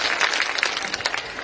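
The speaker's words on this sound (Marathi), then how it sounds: "जोरदार एकनाथ श्रीकांत शिंदे साहेबांसाठी टाळ्या वाजा." Crowd applause for Eknath and Shrikant Shinde at a Pathri municipal council election campaign rally: a dense, steady patter of many hands clapping, fairly loud and continuous throughout.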